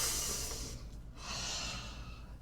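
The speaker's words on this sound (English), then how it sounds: "If you do deep breathing, which everybody tells you to do" A slow, deep breath drawn in and let out, close and soft, with a brief pause between inhale and exhale and no talking.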